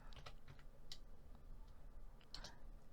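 Calculator keys are pressed during an accounting calculation, giving a few faint, quick plastic clicks at irregular intervals with no voice over them.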